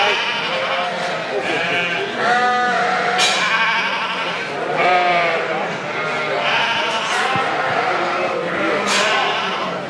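Rambouillet ewe lambs bleat repeatedly in a livestock show ring, several wavering calls rising over a busy hall with an announcer talking underneath.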